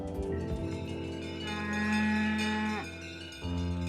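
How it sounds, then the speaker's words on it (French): A herd of Aubrac cattle lowing as they are driven along a misty morning road, with long, loud, drawn-out moos and faint cowbells in the background. "le long de cette route, Patrick Mouliard conduit son troupeau de vaches."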